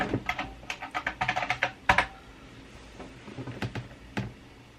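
Fingers tapping on a computer keyboard nearby, a quick burst of keystrokes, a pause, then a slower scattering of presses.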